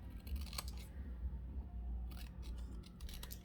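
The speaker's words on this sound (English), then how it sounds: "what if I cut this into rectangles?" Scissors snip through a strip of paper to cut it into rectangles, giving several crisp close cuts in an uneven rhythm over a quiet room with no talking.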